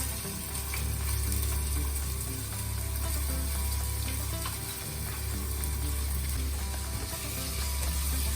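Chopped onions and green chilli stirred in a pan over a moderate flame, giving a steady, even sizzle with faint scraping that runs without a break through the whole stretch, close and fairly loud.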